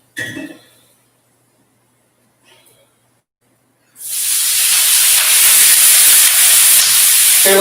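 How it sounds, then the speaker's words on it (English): A hot pan that cooked NY strip steak, set in the sink, bursts into a loud, sustained hiss and sizzle as water is poured on, steaming steadily for several seconds after a brief quiet knock. "a little sizzle in the background, and just put a little water on that."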